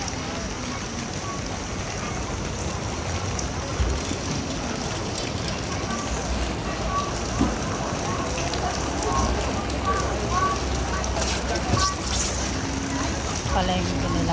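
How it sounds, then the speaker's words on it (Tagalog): Dense, steady hiss of heavy rain pours continuously, with occasional louder spatters and voices faintly mixed in. "Lakas ng ulan."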